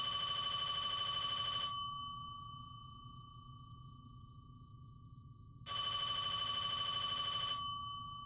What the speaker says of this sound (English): I was abruptly awoken by the shrill ringing of the motel phone